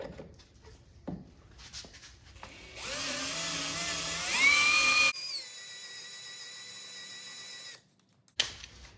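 A power drill bores holes in a Jeep JLU for a harness bar install, a steady whine that climbs in pitch as the bit bites, then a steadier high hum before cutting out, with a clunk after.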